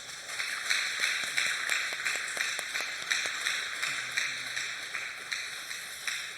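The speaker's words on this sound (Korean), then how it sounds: "우리 박수 한번 힘차게 치면 어떨까요?" Church congregation applauding during a Sunday worship service, a steady stream of many hands clapping that sounds somewhat distant and fairly soft in a reverberant hall, with no talking over it.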